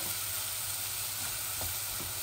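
Shutki, dried shol fish, frying in oil gives a dense, even sizzle with faint stirring scrapes, close by and continuous over a couple of seconds.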